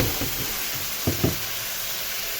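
Rice and vermicelli sauté in a hot pan with a steady, close hiss of sizzling, broken by a few quick knocks and scrapes of a spoon stirring early on.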